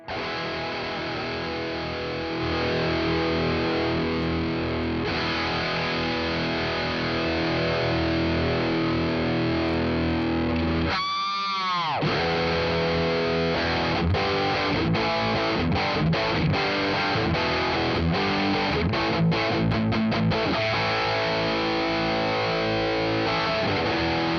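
Heavily overdriven electric guitar through a Nux amp modeler's Marshall stack drive chugs and rings out with thick amp-style crunch, sustained chords and choppy riffs, played alone and up close.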